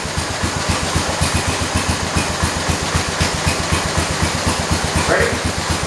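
The Kohler engine of a 1968 112 tractor runs in second gear with a loud, close, rapid, evenly pulsing chug that holds steady throughout, with no talking over it.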